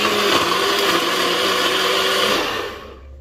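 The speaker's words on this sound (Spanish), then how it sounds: "Pues vamos a moler, a ver si no lo muele el Nutri." A Nutri blender grinds dry corn with milk powder and baking powder, a loud, steady whirring roar that runs unbroken for about two and a half seconds, then winds down as the motor stops.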